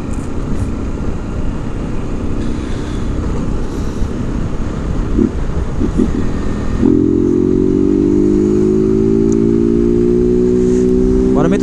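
Yamaha XJ6 motorcycle ridden at night, a steady loud engine drone whose pitch shifts as gears change, rising after a shift partway through; no talk is heard.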